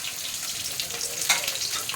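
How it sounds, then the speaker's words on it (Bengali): Fish frying in a pan in a home kitchen, a steady close sizzle throughout with a brief sharper crackle near the middle. "এখানে মাছ ভাজা বসিয়েছি"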